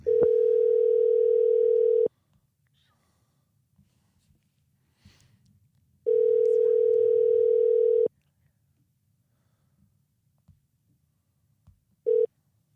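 Telephone ringback on an outgoing call before it goes to voicemail: two long, steady, moderately loud tones about four seconds apart, then the brief start of a third, with near silence between and no talk.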